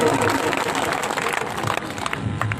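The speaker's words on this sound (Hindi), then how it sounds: "एक बार जोरदार तालियों से स्वागत होना चाहिए।" Village gathering in Tatija gram panchayat applauding to welcome Jhunjhunu MP Narendra Khichar; loud, dense crowd clapping with mixed voices in the background, continuous for the whole short stretch.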